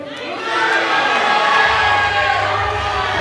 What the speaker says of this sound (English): Now the roll from the Italians in the crowd.